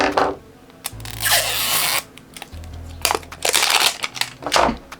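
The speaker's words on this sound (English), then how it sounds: "So let's unwrap them." Spectrum Noir markers being unwrapped from their plastic packaging, loud close crinkling and crushing of plastic in bursts with brief pauses, nothing else heard.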